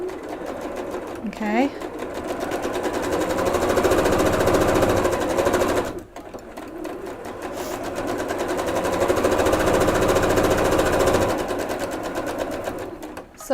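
A sewing machine chain-stitches half-square triangle quilt blocks in two long, steady runs of rapid mechanical whirring, close and loud, with a short pause between pieces and a voice speaking briefly.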